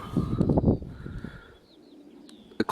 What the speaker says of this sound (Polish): tutaj w tym czasie jeszcze i tak gołębie przylatują